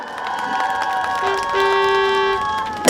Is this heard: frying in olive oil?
no